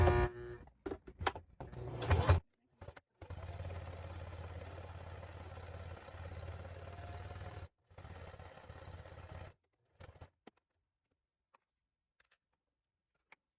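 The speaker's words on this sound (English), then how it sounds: "I'm going to sew an extra row of stitching along this bottom here just to give it extra security" A domestic sewing machine runs steadily for several seconds, stitching an extra reinforcing row along the bottom of a fabric handbag, with brief clatters and start-stop bursts before and after the main run, then near silence.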